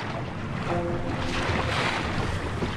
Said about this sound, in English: the wind increases and the waves are building.